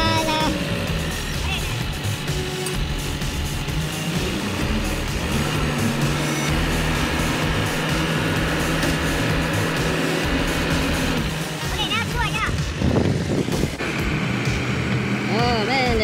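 A tractor with lots of tires, heavy in the back, works at moving big boulders, its engine a steady loud drone throughout, with a harsher burst of mechanical noise near the end.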